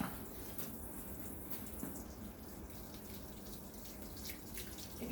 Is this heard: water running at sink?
yes